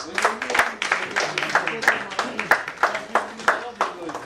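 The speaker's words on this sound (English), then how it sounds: "They deserve a better round of applause" Scattered, uneven clapping from an event audience welcoming a bank team on stage at a quiz semi-final, individual claps distinct and fairly close, with a voice speaking over them.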